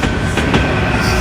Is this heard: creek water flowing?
no